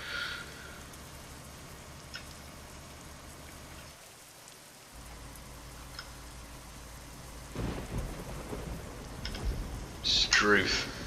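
Thunder rumbles and rain falls during a storm, a steady wash of rain with heavier booming swells toward the end, heard from inside a vehicle on the road.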